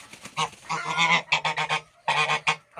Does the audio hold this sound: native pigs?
no